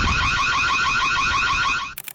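Loud electronic car-style alarm blares in CCTV footage, a continuous warbling pulsing tone repeating rapidly for nearly two seconds before cutting off abruptly into a few faint knocks.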